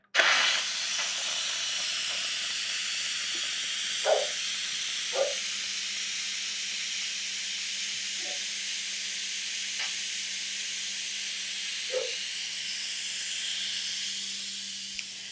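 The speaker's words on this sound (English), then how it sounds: "I'm going to release the steam." Continuous loud hiss of steam venting from a pressure cooker of homemade chicken stock, steady throughout with a few faint clicks and knocks underneath.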